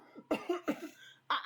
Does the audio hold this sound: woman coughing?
yes